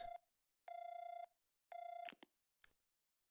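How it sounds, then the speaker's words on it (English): Phone dialing in the Trails From Zero video game: a short beep, then two longer electronic ringing tones separated by silence, followed by a few brief clicks, clean and moderately loud with no voices. "Lloyd called the phone number he received."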